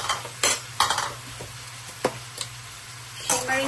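Garlic butter crab sizzling in a pan while being stirred, with a steady frying hiss under sporadic clinks and scrapes of a utensil against the pan, close and without talk.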